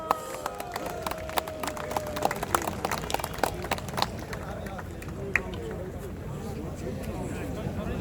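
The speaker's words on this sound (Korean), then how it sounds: "큰 박수를 보내주시기 바랍니다" Applause from a large outdoor crowd of about 3,000 at a Korean War memorial ceremony in Yongsan, heard as scattered sharp claps and a rising wash of clapping over steady background noise, with a voice audible.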